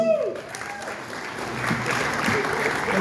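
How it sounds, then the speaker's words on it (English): Audience applause for a state representative at a civic gathering, moderate clapping that grows steadier, with a few voices and whistle-like sounds over it at the start. "Give him a round of applause."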